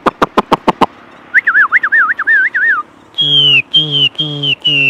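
A caged songbird sings loudly and close by, with a few sharp clicks, then a run of warbling trills, then several clear repeated whistled phrases.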